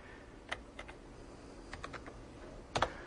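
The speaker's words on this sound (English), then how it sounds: "I'm typing hello JSP." Keys on a computer keyboard click in short scattered bursts, a few isolated taps then a quick cluster, quiet and close against a faint background hiss.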